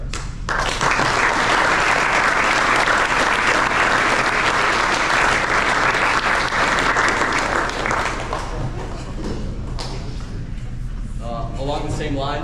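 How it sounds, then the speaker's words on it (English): Loud sustained applause at an end-of-season sports awards gathering as players clap for their parents, fading after about eight seconds into scattered claps and room chatter. "take the moment to turn to your parents and give them a round of applause"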